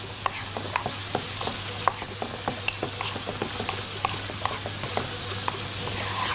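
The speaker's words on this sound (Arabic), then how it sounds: "تعالوا كده نبدا بقى نقلب الخضار بتاعنا تقليبه كويسه" Vegetables stirred in a sizzling pan, a spoon scraping and tapping in quick irregular strokes over a constant close frying hiss.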